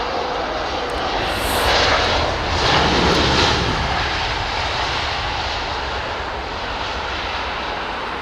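An Airbus A380 arrives with its jet engines giving a steady roar that swells briefly as it passes close by, then settles into a sustained broad rumble, with no voices.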